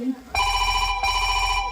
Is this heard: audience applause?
no